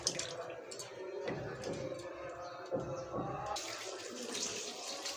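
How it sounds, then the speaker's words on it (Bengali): Leafy greens are rinsed under a running tap, with water splashing and pouring unevenly as the leaves are handled. The flow grows brighter and fuller toward the end. "তিন চারবার ধোয়ার পরে তো এখানে আমি লবণ হলুদ দিয়ে আরও ভালো করে ধুয়ে নিব"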